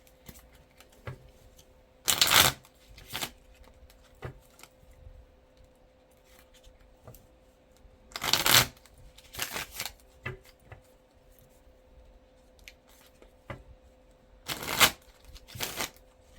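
Several short bursts of tarot cards being riffled and shuffled, close by, separated by quiet pauses with faint handling clicks in between.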